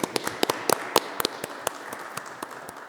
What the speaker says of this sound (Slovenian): predlagam, da ji zaploskamo